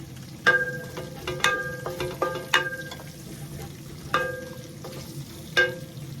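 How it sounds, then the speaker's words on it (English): Ghee, or clarified butter, hits a hot pot while onions and spices saute for one-pot chicken rice, giving a soft sizzle with several sharp metallic clinks of a spoon against the pot, close and without speech. "We add our ghee, bit of ghee in there, clarified butter."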